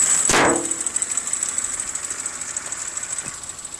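A Daihatsu Terios engine idles with a slightly slipping alternator belt, giving a fast even pulsing chug with a thin high whine after a brief sharp knock at the start, with no talk.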